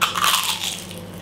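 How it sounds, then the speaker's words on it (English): Crunching of leftover prawn crackers from a Chinese takeaway, one close, dense bite lasting about a second, with no talk. "Surprising, the prawn crackers have some crunch."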